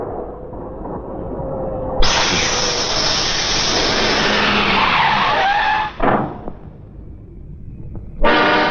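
A car skids to a halt as a tire punctures: a loud, sustained tire screech lasting several seconds, cutting off with a thud, followed by a brief burst of similar noise near the end.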